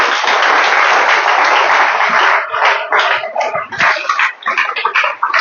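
A church congregation gathered for a communion service applauds the Lord with loud, dense clapping that starts steady and breaks into uneven bursts as it begins to thin out toward the end.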